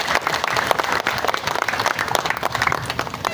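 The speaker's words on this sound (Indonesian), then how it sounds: "tepuk tangan untuk masyarakat Kubu" Residents gathered for a minister's visit in Kubu district clap together, a lively, uneven burst of many hands with sharp individual claps standing out in the crowd.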